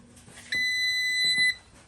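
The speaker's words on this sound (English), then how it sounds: "when we hit this, you're gonna hear a little beep" A single electronic beep from a ComfortBilt HP21 pellet stove's master control switch, a steady high-pitched tone lasting about one second, clear and close over a quiet room.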